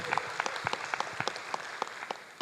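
A seated audience at a talk gives a short round of applause, dense scattered hand claps at steady volume throughout with no voices over them.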